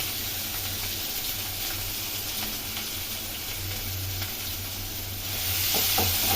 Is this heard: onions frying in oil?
yes